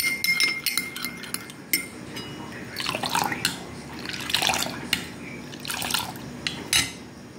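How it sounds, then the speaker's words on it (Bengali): Milk poured into a bowl of beaten hung-curd yogurt while making homemade red sweet doi, a soft liquid splash and trickle with a few light clinks, close and fairly quiet, no talking. "এবারে এই দুধটা বাটিতে ঢেলে দেব"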